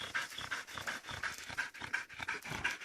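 Close, rapid rhythmic dog panting, a steady series of breathy huffs with a faint whimper in between, and no talk.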